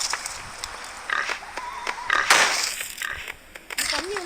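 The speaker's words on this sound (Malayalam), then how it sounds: "പന്നി വന്നു ഗൈസ്, പന്നി വന്നിട്ടുണ്ടായി." A pig in a video game gives short, nasal grunts and oinks in scattered bursts, mixed with intermittent talking.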